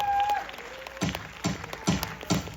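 An audience at a five-year-olds' kindergarten recital in Paju's Unjeong Happiness Center gives a few sharp, evenly spaced claps that land about half a second apart, after a brief tone at the start.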